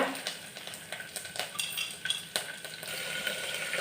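A utensil scrapes and clinks against a pan as soaked chickpeas are stirred into a tempering of mustard seeds, cumin, green and dry red chillies, with a soft sizzle under irregular close stirring strokes and no talking.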